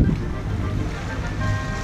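A sailboat motors across Chesapeake Bay with a light tailwind, its engine humming low and steady under the rush of wind and water against the hull.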